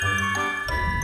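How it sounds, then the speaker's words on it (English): Bright bells tinkle and jingle in a video game, a short run of ringing metallic tones sounding alone with no voices. "Stop playing bells."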